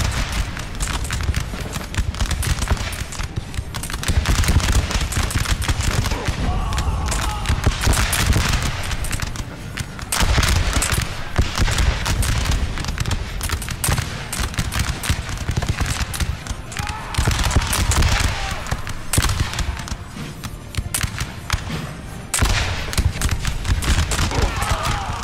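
Musketeers fire repeated volleys in a Napoleonic battle in Napoleon: Total War, a dense, continuous crackle of musketry with booming low rumble and a distant roaring din, with speech mixed in.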